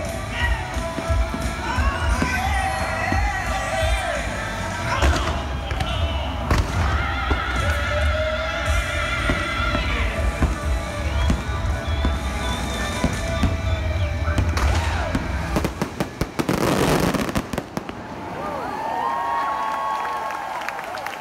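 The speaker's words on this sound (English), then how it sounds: "That was way more fireworks than last year." A dense barrage of fireworks at a Disney Christmas event in Orlando booms and crackles for about twenty seconds, loud and close, with a crowd cheering underneath and a final burst near the end.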